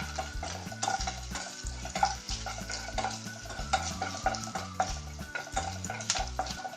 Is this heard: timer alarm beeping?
no